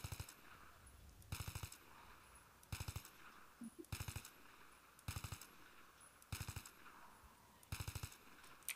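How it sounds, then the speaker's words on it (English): Rifle fire in Battlefield 3, heard as seven evenly spaced three-round bursts, each a quick sharp triple crack, repeating roughly every second and a quarter over a quiet background. "this is where you really want to start doing 3-shot bursts"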